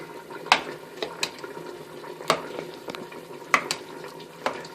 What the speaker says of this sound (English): Basically breaking up the refried beans for the most part.